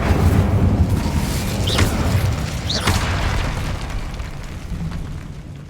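Spell explosions from Confringo and Incendio casting in a Harry Potter video game, a continuous loud booming rumble with two sharp bursts partway through, alone with no talk.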